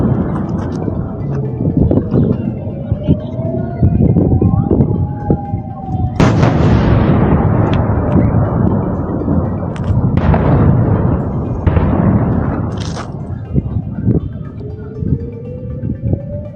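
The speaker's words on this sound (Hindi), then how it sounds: "एक वीडियो देखें कि कैसे मिसाइल आके गिर रही है और इंटरसेप्ट नहीं कर पाए" Missiles fall and explode in news footage from Al-Aqsa, heavy booming blasts and crackling bursts over a rising whine, several loud impacts spaced through the span with a sharp burst midway.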